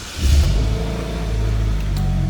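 A 2007 Pontiac Solstice with a 5-speed manual cranks and fires, then settles into a steady, deep idle rumble, loud and close, with no talking.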